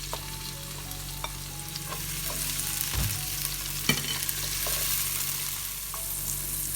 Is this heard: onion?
yes